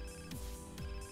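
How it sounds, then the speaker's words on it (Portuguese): A mobile phone ringtone sounds in GTA San Andreas, two short electronic rings in quick succession, clear and close, with no talk over it. "Telefone tocando, vamos atender."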